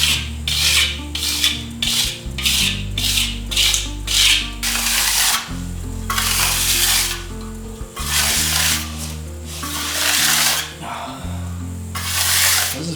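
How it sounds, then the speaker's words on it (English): A steel trowel is pressed in repeated rhythmic strokes across an earthen floor, giving a steady close scraping and rubbing over a low droning hum. "Just strokes with pressure with the steel trowel."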